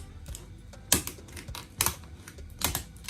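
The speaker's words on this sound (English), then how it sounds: "I'm going to use my scissors because it have hard shell." Kitchen scissors cut through a hard lobster shell in three sharp, separate crunching snips, close and fairly quiet, with faint handling noise between them.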